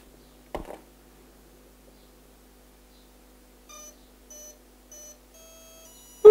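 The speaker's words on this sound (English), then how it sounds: "ooh, we got some beeps." A battery plugged into a pool-noodle RC plane: a brief clack of the connector, then a pause before a series of short, clear electronic beeps and a longer tone, with a louder clunk at the end.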